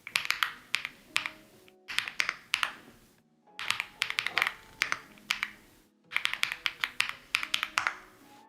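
Rapid clacking on a computer keyboard comes in four quick bursts of keystrokes, close and crisp, with short silent gaps between the bursts.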